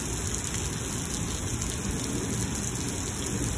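Heavy rain pours steadily during a thunderstorm in Lubbock, Texas, a dense, continuous hiss of drops on surfaces with no clear thunderclap, loud and unbroken throughout.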